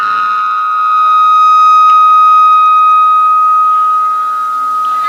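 A vehicle horn blares during an outdoor Bhagavat katha gathering, one loud, steady, unbroken tone held for about five seconds that swells slightly in the middle.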